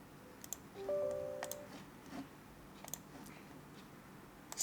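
Several faint, sharp mouse clicks land at irregular intervals in a quiet room, each a single brief tick.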